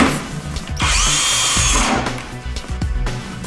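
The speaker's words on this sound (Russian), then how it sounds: "прикручиваем ответные планки и упор блокиратора к раме при помощи шурупов" A power screwdriver drives 4x25 screws to fix strike plates and a lock stop onto a window frame, heard as a close whirring burst of about a second, with clicks and handling knocks around it and no talk.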